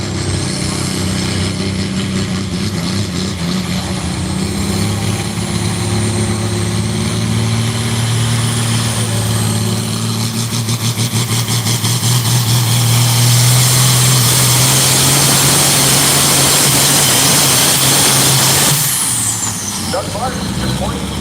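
Pulling tractor at an ECIPA tractor pull championship in Rockwell, Iowa, a loud, sustained engine roar that builds in pitch and intensity over about twenty seconds before dropping off, with an announcer talking over it.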